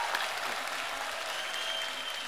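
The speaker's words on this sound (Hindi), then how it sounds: "इन सबके लिए एक बार दोबारा ताली" Studio audience applause for musicians on a television comedy show: an even, continuous sheet of crowd clapping, fairly soft and steady throughout with no talking.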